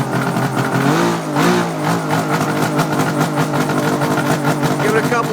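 A kick-started engine with the choke set runs steadily after starting, a loud, close, throbbing drone with slight rises in revs throughout.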